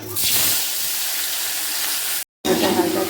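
Sliced potatoes coated with salt and turmeric fry in hot oil, giving a loud, steady sizzle that runs almost unbroken, stops for a moment, then starts again.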